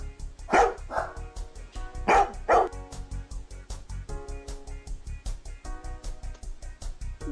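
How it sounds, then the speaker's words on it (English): A dog barks loudly several times in short bursts over a steady rhythmic musical backing. "There are three dogs."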